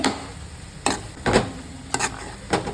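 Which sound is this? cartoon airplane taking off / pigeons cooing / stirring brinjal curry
stirring brinjal curry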